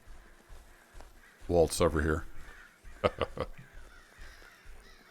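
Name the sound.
crows cawing in the video game Medieval Frontiers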